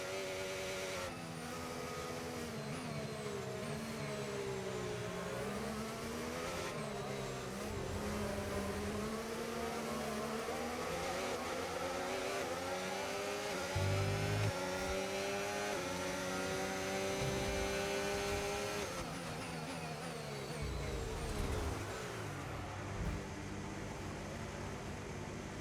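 Formula 1 race car from the F1 25 game, driving at China: a sustained engine whine rising and falling through gear changes, steady and loud throughout with no talk.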